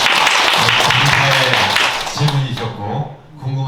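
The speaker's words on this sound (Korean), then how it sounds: "박수 한번 쳐주시죠." Audience applause at a university lecture: a dense burst of clapping from a crowd that thins out after about two seconds, while a voice speaks over the fading claps.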